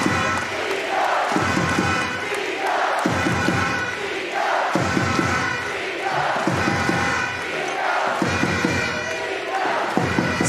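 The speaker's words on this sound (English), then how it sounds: "And you can hear that crowd." Loud basketball arena crowd during a timeout in a Super League semi-final, roaring and chanting in rhythmic surges with heavy rhythmic stomping or thumping, a dense wall of cheering that fills the whole stretch.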